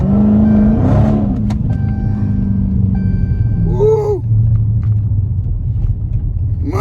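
A Dodge Scat Pack fitted with a throttle pedal box accelerates with a deep, loud rumbling engine and rising revs, while someone shouts excitedly over it.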